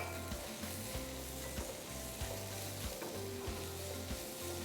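Onions sauté in a pan with a steady, dense sizzle that runs unbroken throughout, heard close and alone with no voices.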